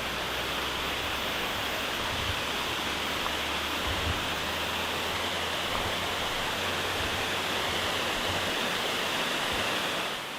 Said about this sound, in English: We are at the Owharoa Falls track. It's a waterfall.